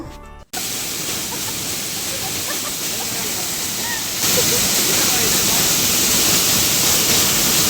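A waterfall crashes with force in a dense, steady roar close by. The roar grows louder partway through and carries on unbroken with no clear talking.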